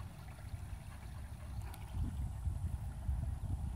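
A little waterfall in an outdoor spot gives a steady, close rushing and splashing wash of water that swells slightly partway through, with no talking.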